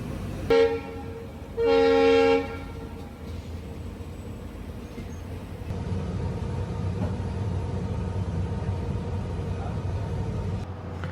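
Two passenger trains pull out together on the Khajuraho–Udaipur route, with two loud horn blasts in quick succession, the second longer, followed by rising rumble and clatter of rolling carriages close by.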